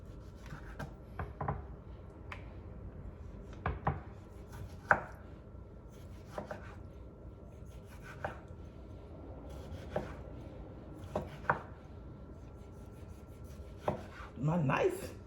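A dull kitchen knife chops food on a cutting board during ackee and saltfish preparation, with irregular close, crisp knocks spaced a second or so apart over a quiet room, and a busier cluster of cuts near the end.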